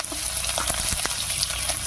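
Chopped onion hitting hot oil with whole coriander, cumin, ginger, dried chillies and garlic for Bengali egg curry, a loud, close, steady sizzle with brief stirring scrapes.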